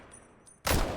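A single loud gunshot from a modern rifle in the TaCZ gun mod for Minecraft cracks out near the end after a quiet stretch, with a heavy, kicking blast and a lingering tail.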